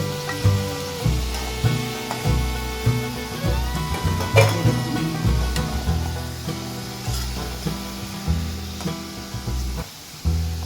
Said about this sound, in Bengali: ওই তেলের মধ্যে মাথাগুলোকে ভেজে নেব